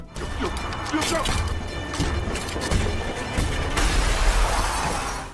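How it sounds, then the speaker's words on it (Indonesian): Glass door of a train shattering in the zombie film Train to Busan, a loud broad crash and burst of breaking glass amid chaotic action noise and a sustained bright spray of debris toward the end. "Namun hal tersebut tidak berhasil karena pintu kacanya tiba-tiba pecah."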